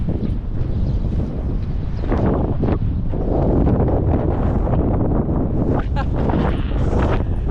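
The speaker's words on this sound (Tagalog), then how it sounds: "Ang lakas ng hangin eh." Strong wind buffets the microphone in steady, roaring gusts, loud and close throughout, with a brief lull near the middle.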